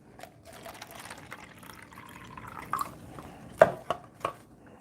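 Water poured onto potting soil topped with a thin layer of perlite, a soft steady trickle with a few sharper splashes and drips near the end, close by.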